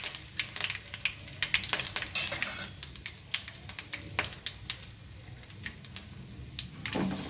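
Rapid, sharp crackles and pops of seeds spitting in hot oil, scattered irregularly over a low sizzling hiss, close by.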